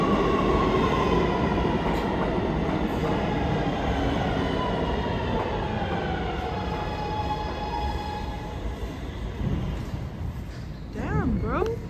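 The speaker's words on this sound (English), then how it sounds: "B train Express." A New York subway B express train rolls past close by, a loud continuous rumble and rattle of wheels with drawn-out metallic squeals rising toward the end.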